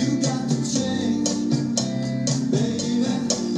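An original recording: steady Latin rock groove with rhythmic organ and guitar chords over bass and percussion, full and continuous, no talking.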